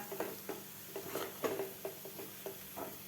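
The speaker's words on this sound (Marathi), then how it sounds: "व्यवस्थित आपल्याला मिडियम गॅसवर एकसारख्याला हलवत राहायचं आहे" Moong dal halwa mixture stirred steadily in a pan over a medium gas flame, with regular scraping strokes about twice a second against a faint, steady sizzle, fairly quiet and with no talk.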